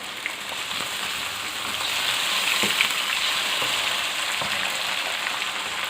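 Chopped tomatoes frying in oil in a pan for bhindi masala give a steady, close crackling sizzle, with occasional small pops and stirring scrapes, continuous throughout without any talking.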